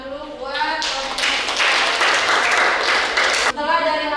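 Students applaud in a classroom: a burst of dense hand clapping that starts after a spoken voice, holds steady for nearly three seconds, then cuts off sharply as talking resumes.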